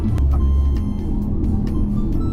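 A truck passes close alongside on a snowy road, a steady low engine rumble filling the background with faint sharp clicks scattered over it.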